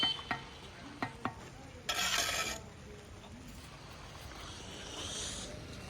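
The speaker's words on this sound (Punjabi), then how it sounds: "ਇੱਧਰ ਮੀਂਹ ਤੇਜ਼ ਹੋ ਗਿਆ ਹੁਣ" Rain falling steadily outdoors where ceiling work continues, a broad hiss with a short louder burst of heavier pouring, plus a few sharp knocks early on; no talking.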